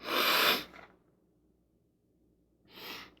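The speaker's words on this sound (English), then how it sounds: "Sneezing." A single breathy sneeze bursts out up close, followed by a long quiet pause and a softer sharp exhale near the end.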